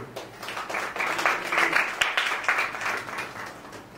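A church congregation claps together in a steady, moderately loud burst of applause that carries on for several seconds.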